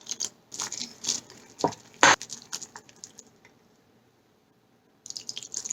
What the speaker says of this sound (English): So I'm just going to pour a little bit in and let me whisk this a bit.